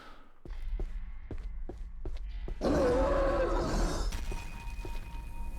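Soft thumping steps give way to a loud, rough growling roar from an approaching unkillable enemy in the game Labyrinth of the Demon King, then a lingering low rumble.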